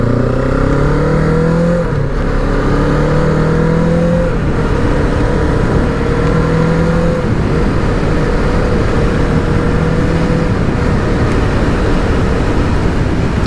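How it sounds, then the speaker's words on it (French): QJ Motor SRK 700 motorcycle engine pulling hard through the revs, a loud continuous roar with rising pitch sweeps and shifts around two, four, seven and ten seconds, steady wind and road noise beneath. "Ça monte très bien dans les tours et en vitesse."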